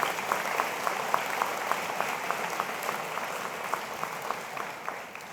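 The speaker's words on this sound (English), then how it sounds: "please give a round of applause to your friends, your families, your partners" An audience at a 2023 commencement ceremony applauds for the graduates' families and friends, a steady, slightly distant patter of many hands with a few sharper claps standing out.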